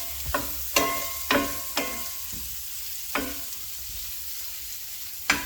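Onions and vegetables caramelizing in a pan, a soft steady sizzle punctuated by about six sharp clacks of a spoon or spatula against the pan as they're stirred.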